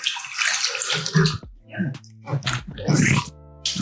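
Water splashes repeatedly as shaving soap is rinsed off a face at a sink, in bursts with short pauses, close and fairly loud, with a few breathy grunts.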